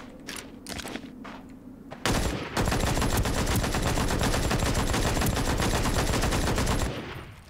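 Gunfire in the winter map of Ring of Elysium, a loud, dense burst of automatic shots rattling steadily for about four seconds after a few quieter scattered shots and footsteps, then cutting off.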